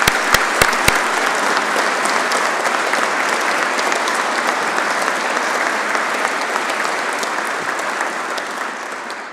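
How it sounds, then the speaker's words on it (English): At a Royal Engineers awards ceremony, a few sharp close claps start a broad, sustained round of applause from the audience, loud and even before slowly tapering off. "let's just give him another round of applause."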